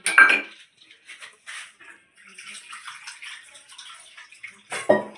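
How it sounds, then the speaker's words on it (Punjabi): Water runs in short splashing bursts as hands are washed in a home kitchen while making gol gappe, close and fairly quiet, with a few louder splashes at the start and near the end. "ਹੱਥ ਵਾਸ਼ ਕਰ ਲੈਂਦੇ ਆਪਣਾ"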